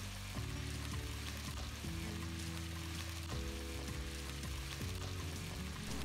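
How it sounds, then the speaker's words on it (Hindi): Chicken and masala fry in a pan while being stirred, with a steady, moderately loud sizzle throughout and soft scraping stir strokes on top. Background music plays along. "मैं इसको अब स्टर कर लेती हूँ, और इसकी स्टरिंग मैंने इतनी देर तक करनी है कि चिकन भी अच्छे से हमारा कुक हो जाए"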